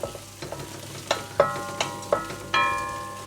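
Ginger, garlic and green chilli sauté in a pan under a steady sizzle, with a metal spoon clanking against the pan in a rhythm of loud, close strokes.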